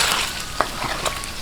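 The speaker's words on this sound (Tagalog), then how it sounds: "konting prito-prito lang po" Pork frying in hot oil in a pan for a Filipino pork binagoongan, a steady sizzle with brief stirring scrapes of the utensil against the pan.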